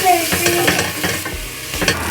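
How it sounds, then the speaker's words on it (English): Onions sauté in a pan with a little salt, sizzling steadily and loud up close while a utensil stirs and scrapes them in repeated short strokes. "start by adding in the onions and saute them until they're a little bit softer for around 5 minutes"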